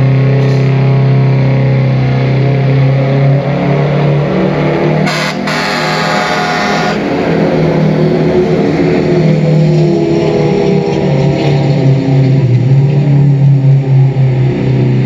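Lifted fire truck with a Detroit diesel engine revving hard at a truck pull in Seymour, a loud, sustained drone near 2500 rpm that climbs and holds with a brief surge in the middle.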